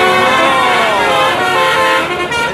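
A toy city bus sounds its horn in one continuous, loud, bright electronic honk lasting a couple of seconds, with no talking over it.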